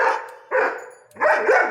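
A pet dog barks three times in close, loud, drawn-out yowling barks with short gaps between them, recorded indoors.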